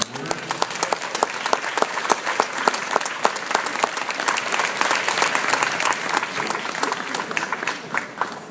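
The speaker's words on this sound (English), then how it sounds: "Please give her a nice round of applause," Wedding guests at the Columbus Athenaeum break into sustained, lively applause after a toast, many hands clapping steadily through the whole stretch with scattered voices mixed in.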